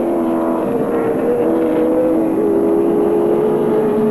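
A 1984 touring car races at speed down the straight at Oran Park with a steady, loud engine drone whose pitch shifts slightly as it goes.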